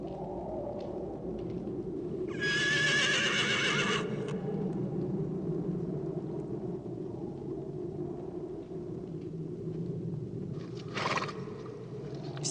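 A horse whinnies loudly in a long, shrill neigh, then gives a second shorter neigh near the end, over a low rumbling background with faint hoof movement.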